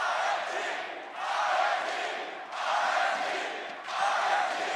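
An esports arena crowd at a League of Legends quarterfinal roars in broad, rhythmic waves of chanting and cheering that swell and dip about every second and a half, loud and continuous.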